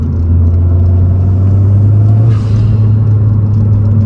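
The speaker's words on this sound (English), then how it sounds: "induction noise right from the intake sucking it up" A 10th-gen Honda Civic Si fitted with a PRL Cobra race-bore cold air intake cruises steadily. Its engine gives a loud, continuous low drone and induction rumble with a brief swell midway.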